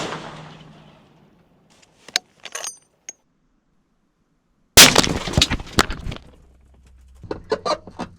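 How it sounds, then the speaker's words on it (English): A .50 caliber rifle fired from about 15 yards at a car gives one loud, sharp blast after scattered small clicks and near-silence, then a brief rattling tail and a few later metallic knocks. "fire with the 50, and we'll see what it looks like"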